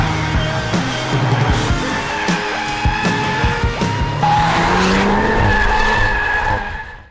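A 2022 VW Golf R drifting on a race circuit makes loud, continuous tire screeching with wavering pitch, under steady engine noise, with no one talking.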